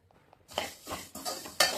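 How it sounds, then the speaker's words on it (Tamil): Black urad dal dry-roasting in a pan as it is stirred, with a few quick scraping, rattling sweeps of grains against metal after a brief quiet start, close and moderately loud. "ஒரு கப்பு கருப்புளுந்து போட்டு பொன்னிறமாக வறுத்தெடுத்துக்கலாம்"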